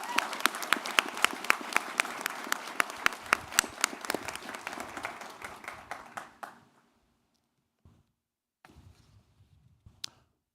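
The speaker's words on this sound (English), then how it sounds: "let's give a big round of applause for all the new liberal arts students" At a college fall convocation, an audience gives a big round of applause for new liberal arts students. Dense clapping fades out over about six seconds, followed by near silence and a few scattered claps.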